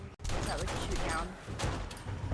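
Gunfire in the survival game 7 Days to Die, a few quick shots and clicks heard faintly under ongoing talk, with a brief dropout at the start.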